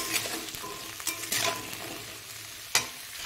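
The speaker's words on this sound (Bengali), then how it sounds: "এবার এটা হালকা একটু নাড়িয়ে নেব" Onion stalks sizzle in a frying pan while a spatula stirs them, several scraping strokes over a continuous close crackle, with no voices.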